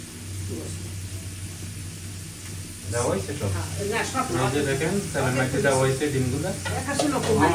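Spices frying in a pan make a steady sizzle with faint stirring scrapes, growing busier partway through, while a voice talks over it.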